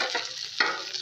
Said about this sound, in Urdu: اور چمچ کی مدد سے میں اس کو ہلاؤں گی آہستہ آہستہ سے ایسے